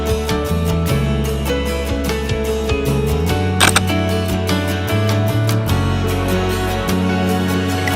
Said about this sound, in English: So all I have to do is press the shutter, allowing me to easily capture the beauty of any fast-moving subject.